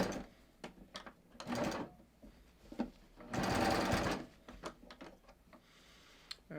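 A sewing machine stitches the crotch seam of lined leggings in several short, uneven bursts with soft mechanical ticks and fabric handling between them. It is close but fairly quiet, and no one talks.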